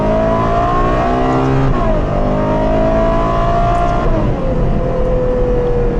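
A loud Ferrari 812 engine revs hard and steadily, its pitch climbing through gear changes with brief dips between shifts.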